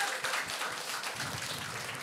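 Audience applause during a Ukrainian comedy show, a faint, dense wash of clapping lasting about two seconds with no voices over it.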